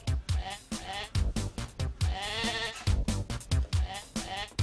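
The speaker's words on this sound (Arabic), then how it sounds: "هذا تيس" A billy goat bleats repeatedly in a loud, quavering series of close calls, with a voice briefly heard among them.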